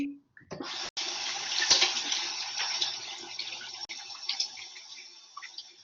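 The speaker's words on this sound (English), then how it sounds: "That is a very, very thorough hand wash that you're seeing demonstrated there" Water runs steadily from a tap during a thorough hand wash, a close continuous rushing splash with small shifts as hands move under the stream, starting after a brief clatter.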